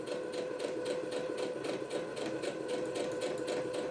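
A sewing machine stitches along the short straight side of a fabric book sleeve with a fast, even mechanical whir and rapid needle clatter, running steadily and close with no talking.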